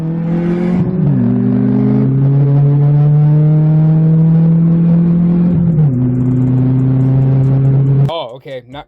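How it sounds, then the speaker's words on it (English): A Chevy Cobalt SS races a Dodge Neon SRT4, with a loud, close engine roar holding a steady pitch, then dropping as it shifts. It cuts off abruptly into a brief, different sound at the end. "Here's a Cobalt SS beating a neon SRT4."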